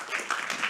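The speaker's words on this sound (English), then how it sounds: "please, applause for Boudewijn Havercourt" A lecture audience at Tilburg University applauds a speaker, a brief burst of steady clapping from a hall full of people.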